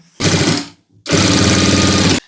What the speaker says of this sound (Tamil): இந்த கேன்வாஸுக்கு மேலே 1/2 இன்ச்சில் நம்ம அப்படியே சுற்றி தையல் போட போகிறோம்